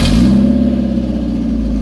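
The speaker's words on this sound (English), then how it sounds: "And of course the obligatory no exhaust startup." Mazda MX5 Mk1 starting up with its exhaust removed, a loud raw burst settling into a harsh, rattly idle drone, close and alone.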